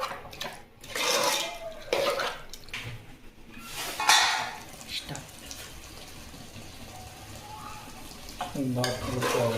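Masala and salt being mixed into chicken for biryani, with scraping, rustling bursts from a spoon in a pot that come and go, fairly close, with a voice in places.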